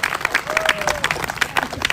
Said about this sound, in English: We get a round of applause for that one.